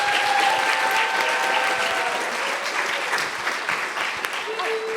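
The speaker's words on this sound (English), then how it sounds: "let's give both of our guests another round of applause" Audience applause at a fall festival and rhyming challenge event, a dense steady clapping from a crowd that fills the whole stretch at full loudness with no talk over it.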